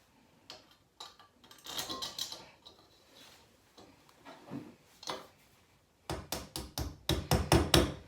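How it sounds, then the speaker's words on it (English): Hammer knocking red wall plugs into drilled holes in a wall while fitting a radiator, a series of sharp, close taps in quick clusters, with scattered quieter knocks and handling noise beforehand. "So I always knock the plug in a little bit so it don't pull out."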